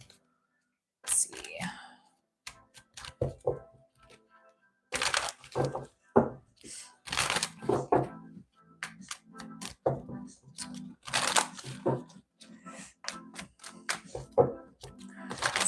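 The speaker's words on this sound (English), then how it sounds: "Just giving this a really good shuffle." Tarot cards being shuffled by hand at close range, a run of soft crisp riffling bursts and slaps in an uneven rhythm, with a person speaking quietly between and over them.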